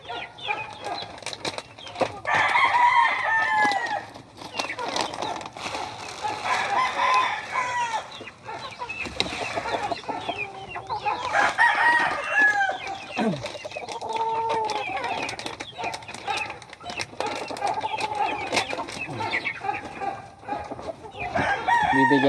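Young pet chicks and chickens, hatched from eggs at home, chirp and cluck continuously nearby, with a rooster-like crow standing out among the busy peeping.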